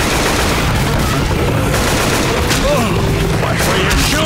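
Dense, continuous gunfire from the zombie shooter Left 4 Dead 2 during the Death Toll boathouse finale, loud and sustained with overlapping bursts and booms throughout.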